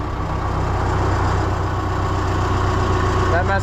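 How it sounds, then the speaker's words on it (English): John Deere 2020 tractor engine running rough with a strained, unhappy mechanical drone from a faulty hydraulic pump, steady and close, rising briefly near the end. "That must have been the sound of the hydraulic pump messing up."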